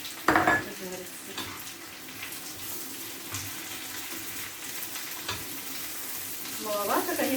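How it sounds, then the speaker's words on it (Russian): Sausage sizzling and frying in a pan, a steady soft hiss with occasional clinks and scrapes of a utensil against the pan. "сразу закину колбаску, пускай все вместе"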